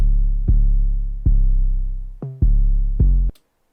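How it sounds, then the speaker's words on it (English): Spins 808 bass sample played dry without effects, five deep booming notes with long decaying tails, one short higher note between them, clean and close with no talking. "So basically, it's just a Spins 808."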